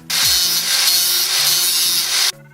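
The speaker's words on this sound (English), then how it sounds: "I'm going to go ahead and grind down these frets where they're going to be covered anyways." Metal guitar frets on a homemade guitar-shaped sword being ground down with a power tool, a loud continuous abrasive whine close up that runs for about two seconds and then stops abruptly.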